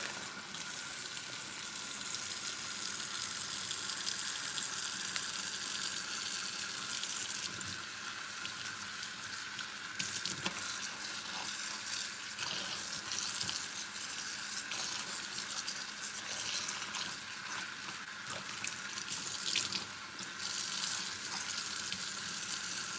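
Tap water runs steadily while dyed 613 blonde hair is rinsed, a continuous close hiss and splash under the faucet with small shifts as the hair moves through the stream, and no talking.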